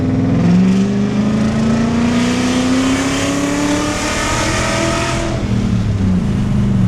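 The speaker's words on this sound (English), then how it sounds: "You hear that V8 sound, and it moves." A BMW 540i V8 with automatic transmission accelerating hard, loud rising engine drone climbing in pitch, then easing off as the revs drop, heard from inside the car.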